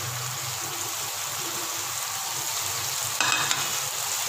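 Dal frying in a pan with coriander powder, red chilli powder, salt and turmeric, giving a steady close sizzle with stirring noises and a brief louder scrape near the end.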